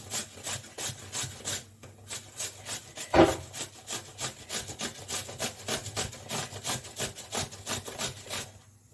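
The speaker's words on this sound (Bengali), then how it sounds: "এখানে সব থেকে যে বড় ছিদ্রটা আছে এইটা দিয়ে আমি এইভাবে ঘষে নেব" A cucumber is rubbed across the largest holes of a hand grater in fast, even rasping strokes, close and continuous with one sharp knock partway through.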